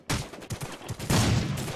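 Gunshots crack out in the mobile battle royale game Rules of Survival, a quick series of sharp shots followed by a louder, denser burst of fire.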